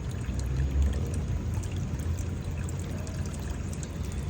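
JB bagoong from Lingayen pours into a pot of dinengdeng vegetable stew as a steady, close liquid gush lasting several seconds.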